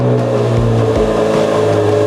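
A Corvette Z06 being built for racing with a roll cage and racing seat runs loud and close, its deep engine rumbling steadily with a couple of brief dips in tone.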